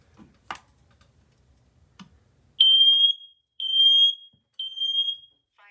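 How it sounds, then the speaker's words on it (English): A Siterwell smoke alarm under test emits three loud, piercing high beeps in a steady rhythm, preceded by a few faint clicks and taps in a quiet house. "testing our new Siterwell smoke alarms in our house today"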